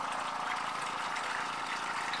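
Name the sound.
water pump running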